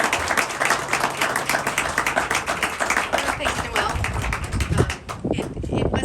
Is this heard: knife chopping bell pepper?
no